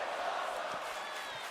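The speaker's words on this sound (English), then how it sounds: "Crowd enjoying the match type." A virtual arena crowd in the WWE 2K24 wrestling video game keeps up a steady, fairly faint roar of cheering during a match, with no distinct single voices.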